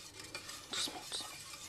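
Milk warming in a pan while being stirred gently, faint scraping and light utensil clinks against the pan over a soft low hiss, close but quiet.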